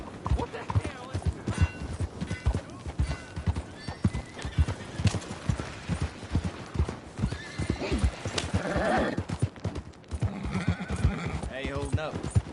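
A horse in Red Dead Redemption II trots with steady, close clip-clop hoofbeats throughout, and a whinny breaks in near the end.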